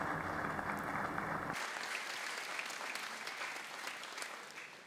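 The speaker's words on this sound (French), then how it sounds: "On l'applaudit lui aussi." An audience applauds a bishop during a catechesis at the Mladifest youth festival, a dense wash of clapping that stays steady and slowly fades away.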